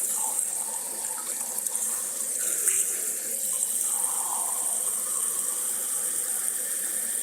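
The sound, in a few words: tap water rinsing a coffee cup in the sink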